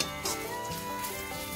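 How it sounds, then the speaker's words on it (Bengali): Chopped ginger and garlic sauté in hot oil in a pan, giving a steady, close sizzle that holds throughout with no talking. "আদা রসুনটা হালকা করে সটে করে নিচ্ছি।"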